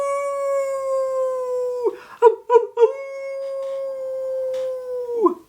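A dog howls in two long, steady, sustained notes, broken in the middle by a few sharp yips, loud and close.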